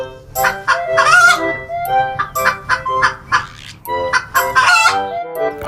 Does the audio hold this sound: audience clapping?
no